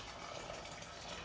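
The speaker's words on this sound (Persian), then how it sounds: "بعد بهش آب گرم اضافه میکنیم" Hot water pouring steadily into a pot of beans being cooked for a quick bean stew, a continuous close splashing gush with no talk.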